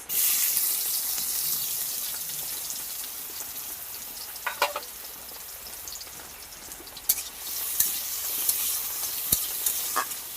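Onions frying in oil in a wok give a steady close sizzle throughout, with a few sharp scrapes and clinks of a stirring utensil near the middle and end.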